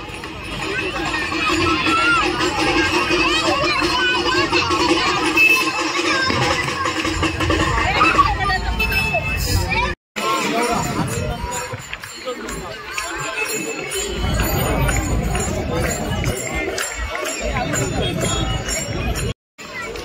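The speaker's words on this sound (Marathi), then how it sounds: "इकडे गर्दी झाली बघा भरपूर" A busy crowd at a Ganesh immersion ground, continuous babble of many voices and movement with a close voice talking over it, steady and loud.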